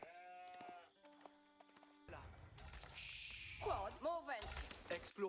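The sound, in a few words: sheep bleating in Age of Empires IV video game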